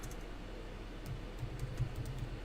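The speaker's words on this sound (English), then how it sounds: "So I can type in over here" Light, rapid clicking of keys on a computer keyboard while entering text, a quiet run of irregular taps that grows slightly busier toward the end, with faint room hum underneath.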